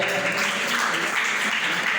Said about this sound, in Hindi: आइए बहुत बढ़िया जोरदार ताली